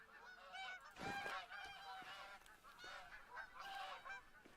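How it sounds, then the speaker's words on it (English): A flock of geese in the hunting game The Hunter: Call of the Wild honk continuously, many overlapping nasal calls forming a loud, busy racket with no pauses. "Them geese are making a hell of a racket."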